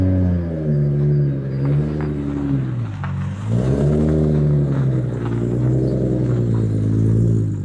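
An old Toyota Chaser at an indoor motor show rumbles loudly nearby, its engine revving in steady rising and falling swells with a brief dip partway through, over faint hall noise and no talking.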